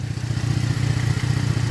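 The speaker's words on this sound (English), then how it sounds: "Sway bar links are rattling." Worn sway bar links on a car with a flexing exhaust and shot motor mounts rattle and clunk in a steady, loud, rapid clatter over a low engine drone, with no voices.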